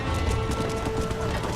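Horse hooves clip-clop in the Red Dead Redemption video game, a steady run of hoofbeats under dense, constant game ambience.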